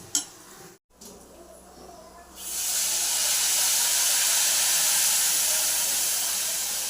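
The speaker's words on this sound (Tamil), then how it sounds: "புளி கரைச்சி வச்சுருக்கோம்ல அதை ஊற்றிக்கலாம்" Tamarind water hits a hot tempering in a pan: a brief clatter, a short pause, then a sudden loud, sustained sizzling hiss that continues steadily to the end.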